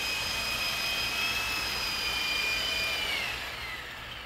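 A loud, high-pitched whine of a 400-class twin-rotor RC helicopter spinning steadily as it lands, then winding down slightly as it settles.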